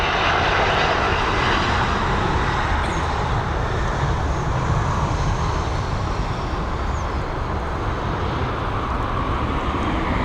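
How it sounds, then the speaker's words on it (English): A Bombardier Global business jet lands at Dublin Airport after a flight from Barcelona, its engines a loud, steady broadband roar across the whole stretch with a faint whine above, and no talking. "Down and nice and safely. There's that Bombardier Global."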